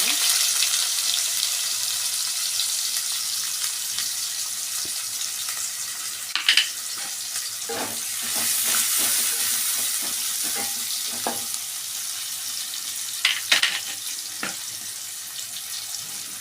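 Chopped onion frying in hot oil: a steady, close hiss of sizzling with occasional clinks and scrapes of stirring.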